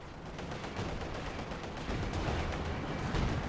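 Creeping artillery barrage in Company of Heroes 2, a dense, continuous rumble of overlapping shell blasts and gunfire that grows slightly louder toward the end, with no talk.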